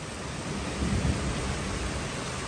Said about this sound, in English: Don't you love the rain?